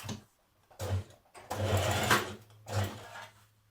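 Short runs of a sewing machine stitching a zip seam on a dress, three close bursts of motor hum separated by brief stops, the middle run longest.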